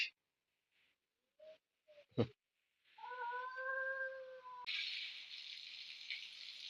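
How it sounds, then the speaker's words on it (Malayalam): A cat growls at a wild animal with a drawn-out, wavering wail lasting a couple of seconds. It is quiet and close, with soft scattered knocks and clicks before it and no talking. "അതിനോടെ നമ്മളെ ഈ പൂച്ച മുരളുന്നതാ"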